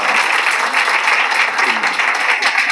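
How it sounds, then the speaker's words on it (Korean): Audience applause at a book concert, a brief dense burst of many hands clapping steadily at close range, loud and continuous with no talk over it. "박수!"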